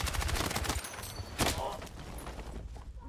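Rapid automatic gunfire in the shooter game Battlefield 6, dense bursts of shots layered with scattered single cracks, loud and continuous with a brief lull midway.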